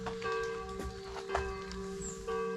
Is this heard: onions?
no